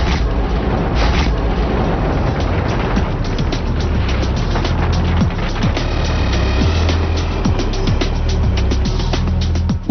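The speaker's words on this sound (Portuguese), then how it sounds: "E temos uma explosão abaixo do solo." A deep underground explosion from a projectile impact test, a sustained loud roaring rumble with dense crackling debris and repeated thuds throughout, no voices present.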